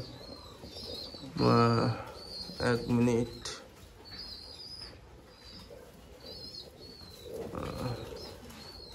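Madrasi pigeons coo in a loft with soft chirps and a brief flutter of wings, while someone talks over them in two short bursts.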